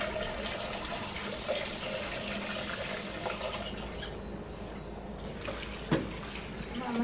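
Water runs steadily from a tap into a sink while vegetables are washed for an outdoor country lunch, a continuous splashing flow with a few brief clinks.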